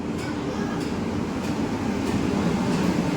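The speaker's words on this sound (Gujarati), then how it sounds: "સો ફાઇનલી આપણી ટ્રેન આવી ગઈ છે." A train rolling into a station, a steady loud rumble with faint rail clatter throughout.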